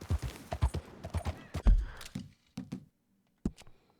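Hooves of a horse clip-clopping in the Red Dead Redemption II video game, a quick run of close, crisp hoof falls that thins to a few scattered steps and then stops, with no talk over it.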